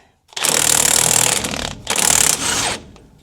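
An impact wrench fitted with a swivel socket hammers loudly and close up on a truck wheel nut in two sustained rattling bursts, the second shorter and tailing off.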